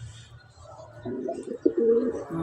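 A pet pigeon cooing close up, a low throaty rolling coo that swells and repeats over a couple of seconds with no talk over it.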